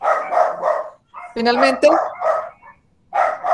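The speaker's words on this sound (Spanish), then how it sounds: "El perrito." Small dog barking in sharp yappy bursts, several quick barks close by, mixed with a person talking over and between them.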